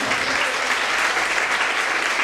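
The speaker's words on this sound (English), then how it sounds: "A big round of applause" A big round of applause from the audience at a women's college event, dense steady clapping that fills the whole stretch at even loudness.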